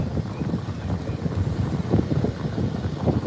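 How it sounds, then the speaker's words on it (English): Gusty wind at a beach in Australia buffets the microphone in a constant low, rough roar, with uneven bursts rising and falling. "So you can see the breeze. It's quite windy, quite choppy."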